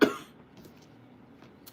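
A single short, sharp cough at the start, close and loud, followed by quiet room tone with faint small movements.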